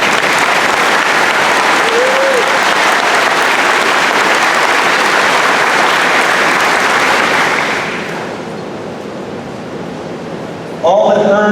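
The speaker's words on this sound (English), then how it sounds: "I think they deserve one more round of applause" A graduation crowd gives a loud sustained round of applause for scholars and athletes, filling the hall, then thinning and fading away before a voice begins speaking at the end.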